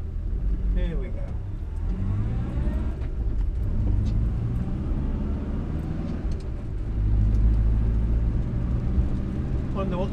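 Interior of a 1962 Morris Minor driving on a road, a steady low engine rumble that swells louder near the end, with a voice talking over it at times.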